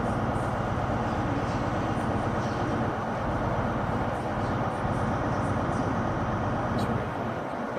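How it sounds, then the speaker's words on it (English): Loud, continuous rumble and rattle inside a moving HST high-speed diesel train bound for Swindon, a dense steady roar with faint clicks above it, and voices talking faintly beneath the noise. "So this is our HST ride to Swindon."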